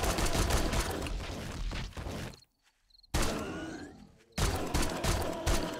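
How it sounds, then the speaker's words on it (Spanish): Bursts of rapid gunfire from the survival video game 7 Days to Die, loud and clustered, broken by two short near-silent gaps. "le pego un par de tiros y, los rematamos en el suelo"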